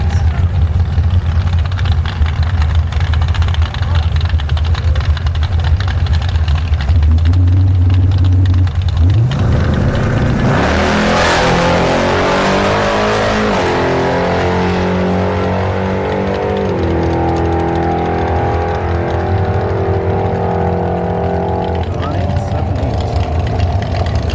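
A drag racing car makes a solo run down the strip at Orlando Speed World: a loud engine roar surges and rises through the gears, then stays sustained and close, with a crowd murmuring and a commentator talking underneath.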